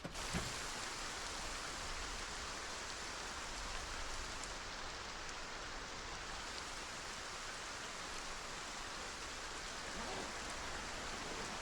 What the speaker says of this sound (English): Oh, I could barely hear this guy because of the rain.